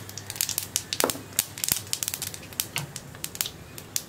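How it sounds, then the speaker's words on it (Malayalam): Mustard seeds popping in hot coconut oil during Kerala-style cooking: rapid irregular crackles and sharp pops, close and fairly quiet, without voices. "കടുക് പൊട്ടിക്കഴിയാറായിട്ടുണ്ട്"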